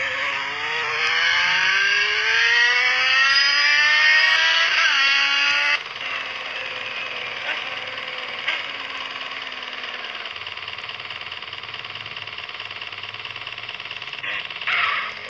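Motorcycle engine in the video game GTA, a Yamaha XJ ridden hard: a loud, rising rev climbing through gears, a sudden drop, then a steady sustained drone with brief blips near the end.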